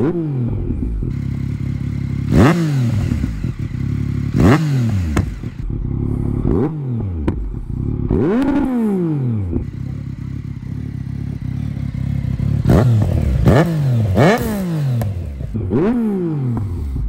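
A Yamaha MT-09 motorcycle fitted with an Akrapovič exhaust revs hard and close, with a series of sharp throttle blips rising and falling in pitch and a loud burbling idle between them, with no voices.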